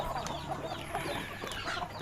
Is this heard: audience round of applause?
no